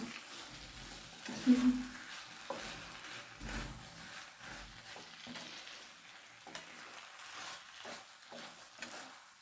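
Boiled potatoes being stirred into a noodle mixture in a pan for an iftar dish, soft scraping and gentle sizzling with a few louder knocks of the spoon, faint and intermittent.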